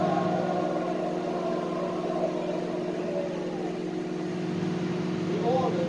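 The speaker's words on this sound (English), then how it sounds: "Yeah, I think my microwave's broken." A home microwave oven hums steadily with a bar of soap inside, a constant low drone running the whole time, with faint background talk.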